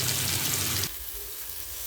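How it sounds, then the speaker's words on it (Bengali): Loud hissing sizzle of food hitting hot mustard oil, which drops sharply to a quieter, steady frying crackle after a moment. "সর্ষের তেলটা গরমও হয়ে গেছে। এবার আমি এটা ছেড়ে দেবো।"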